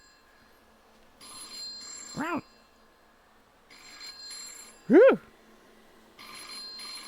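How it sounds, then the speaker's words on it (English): A telephone rings on a table in a video game, with bursts of bright electronic ringing that repeat three times with pauses between. Two short exclamations from a person cut in between the rings. "You can hear a phone ringing on the table."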